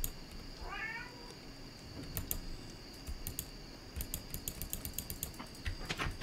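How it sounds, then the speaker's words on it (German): A house cat gives one rising, wavering meow early on, set against steady computer keyboard typing and mouse clicks over a constant electrical hum. "der steht aber neben mir teilweise und miaut"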